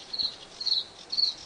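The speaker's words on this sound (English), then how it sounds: "The blue throat sounds like this." Bluethroat call: three short, high, thin buzzy notes evenly spaced in a quick cricket-like series, faint against a quiet background.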